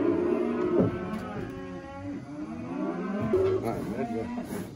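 Cows mooing repeatedly, several long low bellows overlapping one another, close by and loud against a steady outdoor background.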